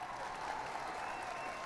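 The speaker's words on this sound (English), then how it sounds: "You get a round of applause." A faint, distant round of crowd applause at a Texas Rangers stadium, a brief wash of steady clapping heard low in the background.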